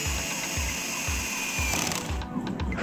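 A DEXTER cordless drill-driver, set to a low clutch setting, drives a screw with a steady motor whine and evenly spaced low thumps as the clutch slips, close up, with a brief change near the end.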